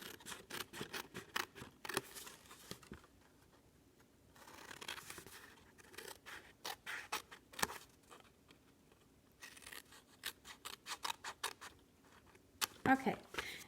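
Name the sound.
scissors cutting paper pieces for a cube box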